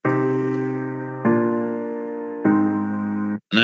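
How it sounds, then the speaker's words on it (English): A synthesized chord progression of three sustained, organ-like chords, each held about a second, with bass notes doubled an octave lower that give a full, rich low end, alone and fairly loud. "So now we have the bass notes 1 octave lower"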